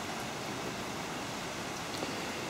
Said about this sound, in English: rain's working its way in on the porch here a little bit.